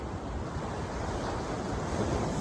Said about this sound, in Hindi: लहरें ही लहरें